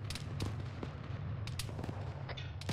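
Distant artillery-style booms and scattered reports in an Arma 3 mortar fire mission, irregular thuds over a steady low rumble, no talk.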